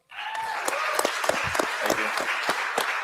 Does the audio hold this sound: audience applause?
yes